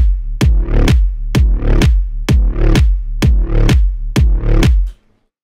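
A synthesized bass line made in FL Studio pulses with a punchy kick drum, about nine loud evenly spaced booming hits in a steady rhythm before cutting off into silence.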